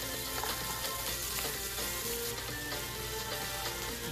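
Peppers sizzle steadily in a hot pan, a dense continuous frying hiss at even loudness with no voices over it.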